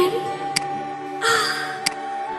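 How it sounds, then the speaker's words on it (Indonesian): A crow cawing death sound from the Mobile Legends video game, two sharp caws about 1.3 seconds apart over a sustained game music background, loud and close. "Dan inilah suara saat Lunok tewas di Land of Dawn."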